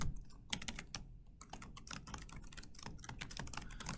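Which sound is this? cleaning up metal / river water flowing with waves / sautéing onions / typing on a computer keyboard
typing on a computer keyboard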